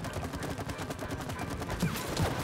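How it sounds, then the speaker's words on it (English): Rapid gunfire in the co-op video game It Takes Two as players shoot at a bee nest, a dense, continuous burst of shots over busy game sound effects. "Shoot on the nest."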